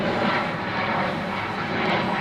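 A 1965 Harley-Davidson Panhead chopper bobber engine runs with a steady, dense roar that stays close and loud throughout, with no speech over it.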